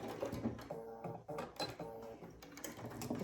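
A sewing machine stitches a quarter-inch seam with gold thread on a Dresden plate quilt block. It runs in short bursts of rapid, mechanical stitching with brief pauses between them, faint and close.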